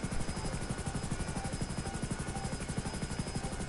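A helicopter in GTA 5 flies with a steady, fast rotor chop that thumps evenly under a constant whining engine drone, close and continuous with no talk.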